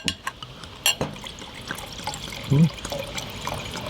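Mâcon chardonnay being poured into glasses, a close liquid trickle and splash with a couple of faint glassy clinks, short and fairly clear with no talk.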